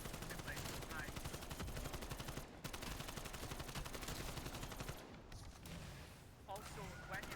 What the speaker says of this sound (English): Use the AK74u a bit more. Because this thing is destroying zombies, which is amazing actually.